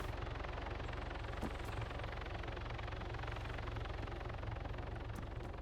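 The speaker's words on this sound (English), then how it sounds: "when I walk through this door, that helicopter should come land on the boat" An Arma video game helicopter approaching to land on a boat produces a steady rhythmic rotor thump and engine drone, faint and continuous throughout with no speech.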